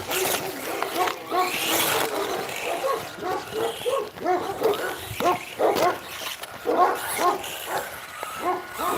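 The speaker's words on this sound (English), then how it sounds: "Sorry about the dogs." Several dogs outdoors on a muddy property bark, yip and whimper close by, a busy overlapping chorus that runs continuously with only brief dips.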